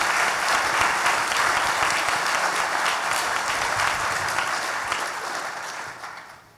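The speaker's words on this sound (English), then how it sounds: "Could I just ask for one more round of applause to say thank you very sincerely." An audience at a hospital community forum gives a sustained round of applause. The clapping is dense and even at first, then thins and fades out over the last second.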